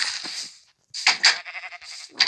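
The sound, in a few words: sheep bleating in the video game Minecraft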